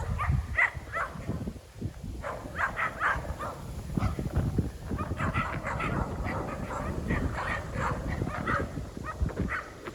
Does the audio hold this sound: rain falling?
no